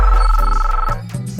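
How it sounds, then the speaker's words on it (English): A telephone bell rings in a quick repeated trill, loud and close, then cuts off abruptly. "but then I got a phone call."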